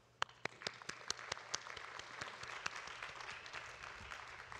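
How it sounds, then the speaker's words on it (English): A commencement audience applauds soon-to-be business and public management graduates, opening with a few crisp, distinct claps that swell into a steady, moderately distant round of applause. "please join us in a round of applause for the soon-to-be graduates"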